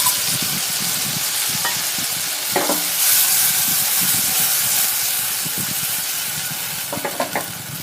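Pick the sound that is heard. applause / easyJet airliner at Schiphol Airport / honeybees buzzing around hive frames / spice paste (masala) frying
spice paste (masala) frying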